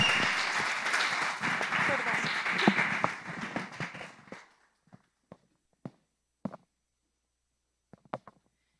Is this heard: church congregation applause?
yes